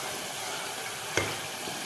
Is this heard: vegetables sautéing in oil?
yes